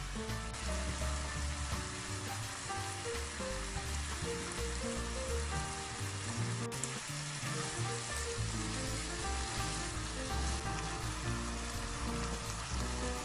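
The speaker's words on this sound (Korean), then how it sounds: "이제 김치랑 양파 넣고 또루마뚜루 볶아주세요" Kimchi, onion and pork stir-fried together in a pan give a steady, dense sizzle and crackle that runs throughout, with a musical backing layered over the frying.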